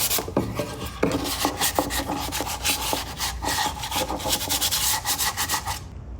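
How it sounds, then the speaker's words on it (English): Fine 220-grit sandpaper rubs back and forth over painted wooden home decor to lightly distress it, a steady close rasping scrape with short strokes, heard alone without talk. "I'm just gonna use 220 sandpaper to lightly distress this, make it look a little aged."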